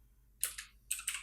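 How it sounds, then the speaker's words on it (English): Keys on a computer keyboard are typed in two short bursts of clicks, close and fairly loud against a quiet background, with no talking. "And let's type in something like"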